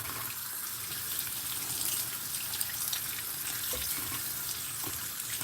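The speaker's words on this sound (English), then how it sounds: "I'm gonna go grab some water." Water running from a tap in a home, a steady, even rush into a sink that carries on unbroken at moderate loudness, with no one talking.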